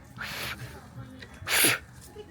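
A small animal sneezes twice, short sharp bursts close by, the second louder, over quiet background noise.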